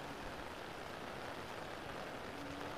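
Floodwater coming down from the mountain rushes past a flooded home in Catubig, Northern Samar, making a steady, dense roar with no breaks and no voices.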